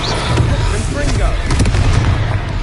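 Blasting spell explosions in the magic game Hogwarts Legacy, a series of loud booming bursts and pops in a chaotic battle, mixed with combat noise and shouted voices.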